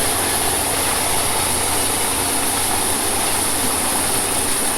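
A loader's diesel engine runs a Chambers Delimbinator at a muddy logging landing, giving a loud, steady, close drone that lasts the whole stretch with no voices.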